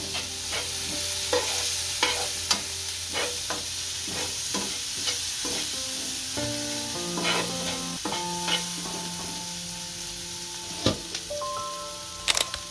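A potato filling with sugar and turmeric is stirred in a pan over steady frying sizzle, with repeated sharp scraping taps of a spoon against the metal, close and fairly loud, with no talking.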